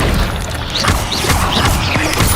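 Accio summoning spell in Hogwarts Legacy, a loud stretch of crashing, clattering magical effects with repeated swooshing chirps and thuds over a busy game soundscape, no voices.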